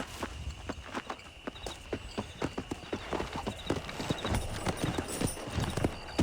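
A horse's hooves clip-clop at a steady trot to gallop in a Red Dead Redemption game, close and rhythmic, with a brief whinny and faint background noise throughout.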